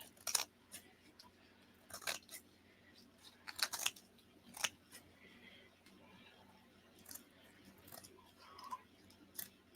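Scissors snipping around black lace glued in place, faint irregular cuts in short clusters against a quiet background.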